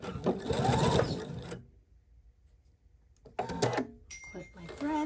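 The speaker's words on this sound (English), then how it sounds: "Start sewing right here. Do a fixed stitch or a back stitch." A sewing machine stitches a lined box-bottom drawstring bag in two short bursts of rapid mechanical whirring, with a quiet pause between them.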